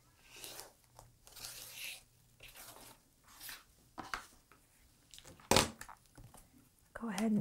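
Crisp crinkling and scraping as a fabric pineapple quilt block is trimmed against a ruler, coming in short bursts with one sharp snap, under soft speech.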